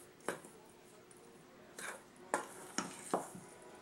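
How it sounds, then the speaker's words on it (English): Paprika and spices are stirred into Carb Quick in a bowl, giving several soft scraping strokes and light knocks of the utensil, close and quiet, with no talk. "And you just want to mix this around so that all the spices mix in with the Carb Quick."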